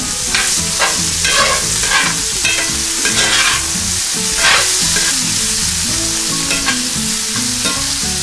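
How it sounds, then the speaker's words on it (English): Chopped onions fry over medium-low heat in a pan with fatback drippings, a loud constant sizzle close up, with repeated scraping and stirring scuffs as the onions are worked across the pan bottom. "We're going to add those onions. We're going to use the onions to scrape those bits off the bottom."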